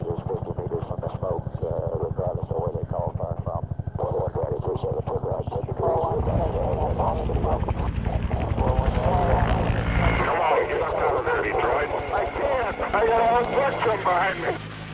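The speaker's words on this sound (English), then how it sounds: "the U.S. Army invested heavily into a new helicopter, the UH-1 Iroquois." A UH-1 Huey military helicopter's rotor thumps rapidly and steadily, joined by a rising turbine whine, with a voice talking over the engine noise.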